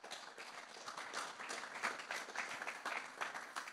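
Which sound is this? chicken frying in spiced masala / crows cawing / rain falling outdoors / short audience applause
short audience applause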